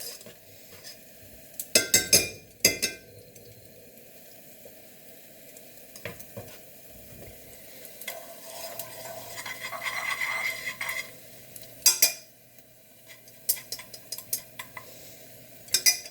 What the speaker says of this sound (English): once this garlic has sauteed for like a minute